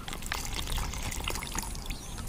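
Cow dung and water being mixed half and half in a bucket, giving a steady close sloshing pour and trickle of liquid with no talk over it.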